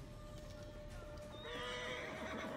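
Horse in the Assassin's Creed Origins video game neighs in a clear rising whinny that swells in the second half, heard alone over a steady game background with faint hoof clatter.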